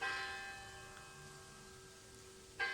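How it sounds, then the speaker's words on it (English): A church bell rings with a sustained, ringing tone that slowly decays, followed by a fresh strike near the end; clear and alone with no voices. "The bell is ringing."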